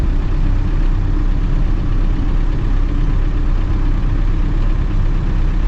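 Classic Land Rover Defender engine droning loudly and steadily while driving, a constant low rumble with no talk over it.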